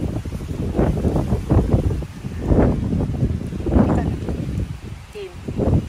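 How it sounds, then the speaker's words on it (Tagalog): Strong wind gusts rush and buffet the microphone in an open peanut field, loud rumbling surges rising and falling throughout. "Malakas ang hangin."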